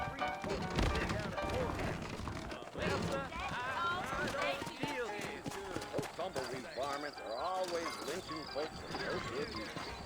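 Horse hooves clip-clop at a slow pace in the Western video game Red Dead Redemption, a steady rhythm running under a man's continuous spoken dialogue and background music.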